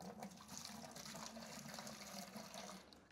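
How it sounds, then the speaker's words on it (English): Water pours steadily into a bag of fast-set concrete mix before mixing, a continuous broadband splashing rush that stays loud and even for about three seconds with no talk. "You want to add the water first."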